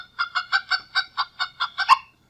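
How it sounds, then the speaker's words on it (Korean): A hen's food call to her chicks: ten quick, evenly spaced clucks, loud and close, with the last one sharper and stronger, then silence. "병아리를 데리고 다니면서 주변에 먹이가 있을 때 내는 소리입니다."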